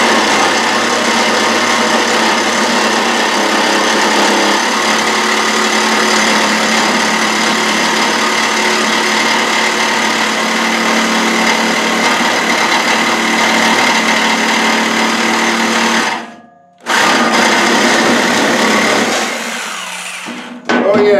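A jigsaw with a fine-toothed steel-cutting blade saws through steel diamond plate for a car hood, giving a loud, steady, buzzing rasp for about sixteen seconds, then a brief stop and a short restart before it winds down.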